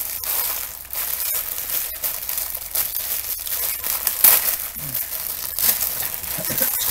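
A plastic bag crinkles and rustles close up during an unboxing, in a busy, continuous crackling with sharp crisp snaps scattered throughout.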